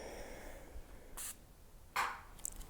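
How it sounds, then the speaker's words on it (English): A spray bottle mists a 50-50 mix of clear enamel and water in a few short, soft hissing bursts, separated by quiet pauses. "I've got some clear fire that's been mixed at 50-50 ratio with some water in a spray bottle here."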